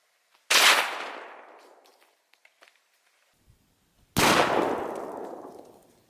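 Two loud .223 rifle shots fired at a cantaloupe, the second with a 55 grain Ballistic Silvertip bullet, each a sharp crack with a long decaying echo outdoors, separated by a few seconds of near silence with faint small knocks.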